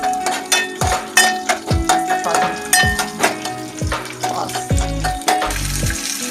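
Garlic and chopped onion frying in a pan for red chutney, with a loud, close sizzle and repeated scraping strokes of a spatula stirring in a steady rhythm.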